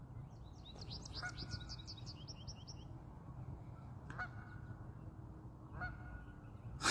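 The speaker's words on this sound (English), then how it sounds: "The geese, they sit on my roof." Geese on a Canadian rooftop honk in clustered calls at intervals over a steady low background rumble, sounding fairly distant and faint, with no talking.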